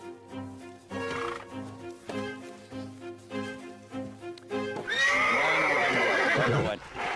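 A nervous horse in a corral whinnies loudly, a long wavering neigh rising near the end over a steady musical background that runs throughout.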